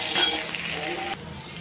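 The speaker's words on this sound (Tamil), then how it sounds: "இப்போ பார்த்திங்கன்னா வெங்காயம் நல்லா வதங்கிடுச்சு." Chopped onions fry in oil with cumin in a kadai, a steady close sizzle broken by a metal clink and stirring scrape before the frying suddenly quiets to a softer hiss.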